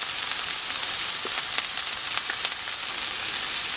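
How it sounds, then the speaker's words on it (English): Meat browning in a hot pan gives a steady, dense sizzle with faint crackles and pops throughout, fairly close and alone. "you can see down here our meat is browning, which is exactly what we want"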